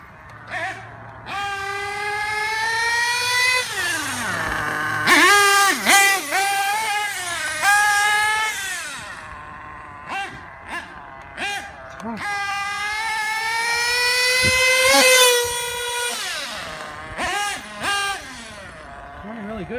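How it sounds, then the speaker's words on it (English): A DYN.28 nitro RC car motor running rich during break-in screams at close range with a loud, high-pitched whine that repeatedly rises and falls as the throttle is blipped, with brief dips between revs. "I think this motor likes to stay on the rich side."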